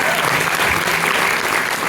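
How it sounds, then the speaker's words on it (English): A live concert audience applauds for the sound engineer, a loud, dense, continuous roar of clapping from a close crowd that fills the short stretch without pause. "Give Joe a round of applause"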